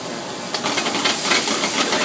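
Dry white wine, such as a Chablis or Pinot Grigio, hits a hot pan of mushrooms for escargot and sizzles in a steady, close, broadband hiss that swells slightly partway through.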